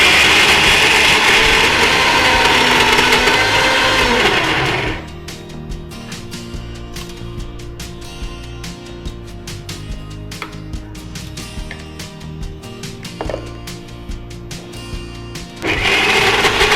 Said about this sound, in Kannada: ಫಸ್ಟ್ ಹೀಗೆ ರುಬ್ಬಿಟ್ಟು ಚೂರು ನೀರು ಹಾಕ್ಬೇಕು.